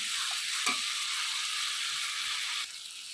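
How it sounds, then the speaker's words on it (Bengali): Capsicum being stirred and fried in a spice masala, giving a continuous close hissing sizzle with a faint scrape of the spatula, dropping slightly at the end. "ক্যাপসিকামগুলো দিয়েও আমি নাড়ব ততক্ষণ একটু কষাবো যতক্ষণ না মশলাটা কষে যায় পুরোপুরি"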